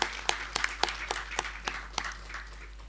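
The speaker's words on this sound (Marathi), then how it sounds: "विमल पालकर यांच्यासाठी पुन्हा एकदा जोरदार टाळ्या वाजल्या." A few people clap in a sparse, steady rhythm at a Marathi dramatized reading performance. The claps are fairly soft and evenly spaced, with no talking.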